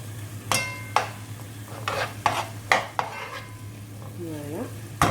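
Three cloves of garlic are stirred in a sizzling frying pan, with a steady hiss underneath and a spoon clicking and scraping against the pan several times in uneven strokes, close up, with no talking.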